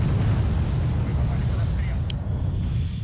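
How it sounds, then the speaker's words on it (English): Heavy artillery fire pounding vehicle positions in the real-time strategy game Wargame Red Dragon forms a dense, continuous low rumble of overlapping blasts, loud and unbroken throughout. "So now they're bringing in artillery on top of where my vehicles are supposed to be"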